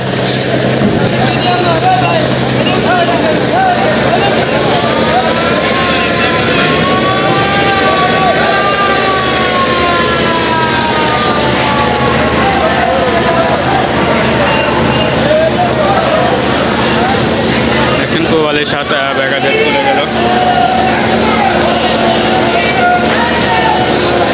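The passenger launch Probali 7 pulls away from Sadarghat in Dhaka, its loud horn wailing in long rising and falling tones over a constant engine and waterfront rumble, with a busy crowd and voices around.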